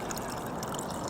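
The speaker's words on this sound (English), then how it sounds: "I don't have a whole lot left in this container, so I'm probably just gonna pour the rest in" Hydrogen peroxide poured from a nearly empty container into a bucket of water, a steady close trickling splash running the whole time with no talking.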